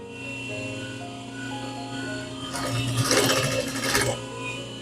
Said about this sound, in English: So we'll go ahead and sew it down at 1/4 inch seam allowance.